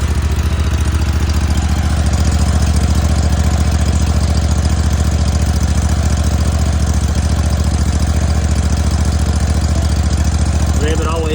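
A Vanguard lawn mower engine, a vertical-shaft motor, runs at a steady loud idle with a constant low drone and fine rapid pulsing throughout, close to the listener, with no clear talk.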